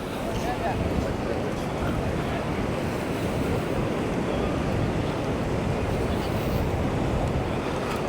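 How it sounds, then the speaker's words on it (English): Ocean waves breaking on a sandy beach at Playa del Inglés, Gran Canaria: a steady, loud, continuous wash of surf with wind noise and no clear pauses. "we'll get a little closer to the water so we can hear those waves"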